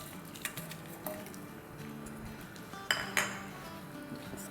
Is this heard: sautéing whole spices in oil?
yes